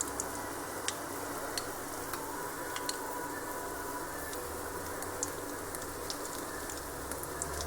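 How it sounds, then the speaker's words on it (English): Asafoetida sizzling in hot oil in a pan for potato curry, a soft steady crackle with scattered small pops, faint and continuous with no talking. "It's just sizzling away nicely there."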